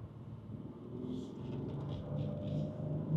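A 2007 Bentley Continental GTC with 552 horsepower accelerates on the road, heard from inside as a low, muffled engine rumble that swells gradually toward the end.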